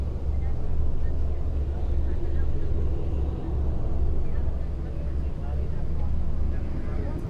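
The engine of a small boat near Camotes Island in the Philippines drones with a low, steady rumble, loud and continuous, with faint voices at times.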